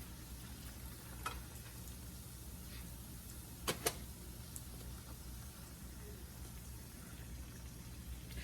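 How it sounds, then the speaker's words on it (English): Southern hoe cakes fry in a pan with a soft, steady sizzle held at low volume, broken by a few brief clicks and scrapes, including a sharp double tap near the middle. "it does not take long at all to make up your batter and to fry your hoe cakes"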